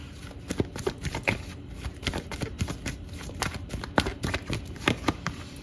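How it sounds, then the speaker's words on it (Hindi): Tarot cards being shuffled and drawn by hand, a run of crisp riffling snaps and soft slaps in uneven bursts, close and clear with no talking. "कुछ कार्ड्स हम टैरो से भी लेते हैं ताकि हमें क्लैरिटी मिल जाए।"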